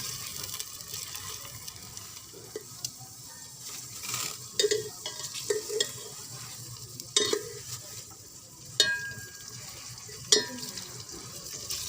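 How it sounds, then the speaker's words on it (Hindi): Onions frying in hot oil for a pyaaz kaddu sabzi, a soft continuous sizzle under scattered clinks and scrapes of a spoon stirring the pan, fairly quiet and with no talking. "उनको इस गरम तेल में डाल के अच्छी तरह से भून लेना है।"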